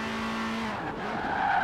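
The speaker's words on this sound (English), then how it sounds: "we just need to drift in this turn here" A car drifts through a turn in Forza Horizon 4, its tires squealing in a sustained, loud skid layered over a steady engine roar.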